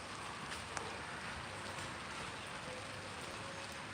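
Steady rain falling, a dense continuous hiss of drops on surfaces, fairly soft and even throughout with no talking.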